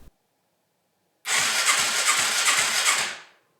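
A Yamaha bobber motorcycle fires up after carb cleaner is sprayed into its carburetor, then runs for about two seconds with a loud, rhythmic pulsing exhaust before cutting out.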